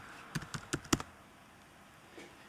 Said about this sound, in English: You just place the cursor and start typing.